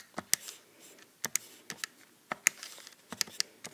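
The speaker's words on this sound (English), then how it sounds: "I'm typing everything in." Calculator keys tapped in irregular bursts of sharp, crisp clicks at close range, entering a law of cosines calculation in a quiet room with no voices.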